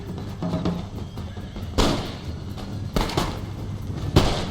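Musket volley from line infantry in Empire Total War, with sharp broadband cracks arriving staggered rather than at once, three distinct bursts over a low battlefield rumble.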